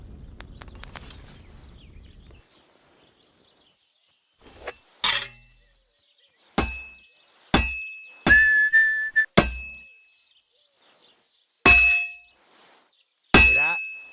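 A blacksmith's hammer strikes hot metal on an anvil in Kingdom Come: Deliverance 2, about eight sharp ringing clangs with bright sustained tones, spaced irregularly across the clip after a short stretch of low background noise.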